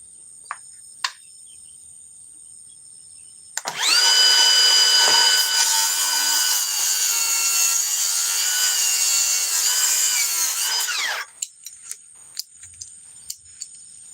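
A saw fitted with a Demo Demon blade cutting through wood, a single sustained whining cut of about seven seconds with a strong tonal ring, starting and stopping abruptly, set among faint clicks and a background hum.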